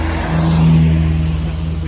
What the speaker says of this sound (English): Triumph TR3.